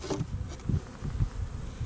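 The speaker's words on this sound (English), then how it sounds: "There's a very small amount of bees up here." Honey bees buzzing around hive supers during a honey harvest with bee escapes fitted, a soft steady hum with a few slightly louder passes close to the microphone.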